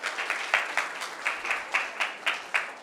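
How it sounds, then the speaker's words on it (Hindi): An audience at a Buddhist vihara in Rajnandgaon breaks into applause, the clapping falling into a steady rhythmic beat of sharp, evenly spaced claps at about four per second, loud and close, with no speech. "तालियां बजा सकते हैं आप"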